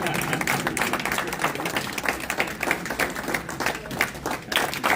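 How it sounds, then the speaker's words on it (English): An audience at a Chicago community political gathering claps steadily to welcome a speaker from Washington, D.C., a dense, continuous patter of many hands filling the room at moderate volume for the whole stretch. "I want everybody to clap."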